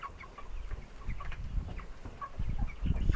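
Four-week-old broiler chickens clucking in a group, soft scattered calls over low rustling and shuffling, fairly close.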